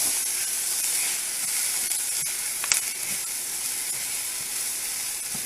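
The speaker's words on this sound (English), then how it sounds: "Now we're going to stir that up. Oh, look at that toast on that rice." Toasting rice sizzles and hisses steadily in a hot pan while being stirred for veggie enchiladas, a dense, even frying sound with one brief clink near the middle.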